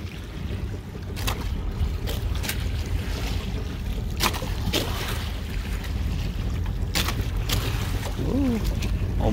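Ocean waves wash around a boat at sea off Bali, a steady rushing water and wind noise with sharp splashes and knocks, and voices call out briefly near the end.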